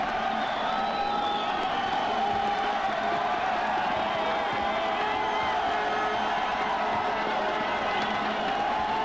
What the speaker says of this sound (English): makes for a small but vibrant crowd